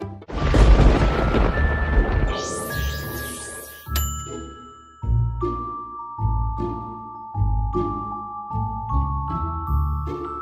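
A cartoon explosion bursts with a loud, noisy boom and a swooping whistle, then bright dings and chimes ring out in a series of tinkling hits, each followed by a low thump.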